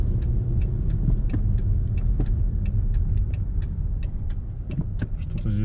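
A car drives through city streets in Simferopol, Crimea, its steady low road rumble continuous and fairly loud, with small ticks and clicks scattered over it and no voices.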